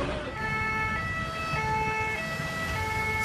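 Ambulances evacuating victims after a shooting and hostage-taking in Paris, a two-tone siren alternating steadily and continuously over road and traffic noise, fairly loud and close.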